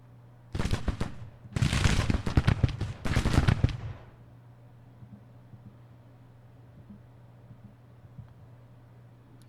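Mississippi Rifles firing at range in Grand Tactician, a Civil War strategy game: three loud bursts of massed rifle volleys crackle in quick succession over a steady low hum, then the firing breaks off and a quiet ambient rumble remains.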